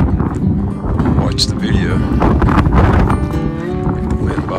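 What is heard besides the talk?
wind blowing into the microphone outdoors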